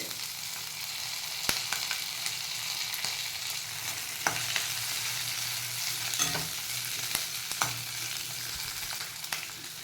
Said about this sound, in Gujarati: એ જ ડુંગળી અને કેપ્સિકમ જોડે ફ્રાય કરી લઈએ.